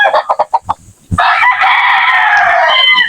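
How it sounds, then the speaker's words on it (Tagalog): Texas-breed fighting roosters kept for cockfighting, a few quick clucks followed by one loud, long crow held for about two seconds, close and clear with no talking. "Ito po yung mga alaga nating mga pangsabong"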